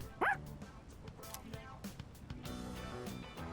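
A dog in the video game Persona 3 Reload gives one short, sharp bark early on, followed by softer game sounds and music.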